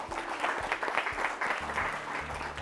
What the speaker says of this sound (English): Let's clap for them as well.